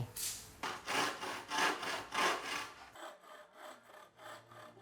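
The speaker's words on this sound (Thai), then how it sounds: "เอาเลื่อยบั่นทอน ให้มันเป็นท่อนท่อนท่อน" Steady back-and-forth strokes of a hand saw cutting bamboo into sections, rhythmic rasping pulses with a brief pause partway through, close by.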